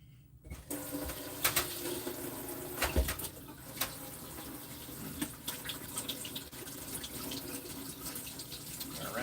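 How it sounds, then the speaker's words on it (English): A kitchen tap runs steadily as a knife is rinsed under it during meat meal prep, a continuous close splashing stream with small clinks, and faint bird coos can be heard in the background. "rinse that knife off."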